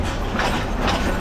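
A train rolls steadily along rails, the carriage swaying hard as it slows, giving a loud, continuous rumbling roar with no pauses, heard from inside the car.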